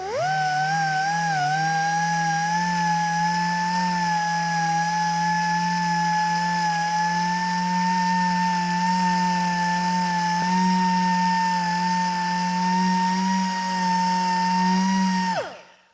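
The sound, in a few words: small polisher polishing 2000-grit sanded clear coat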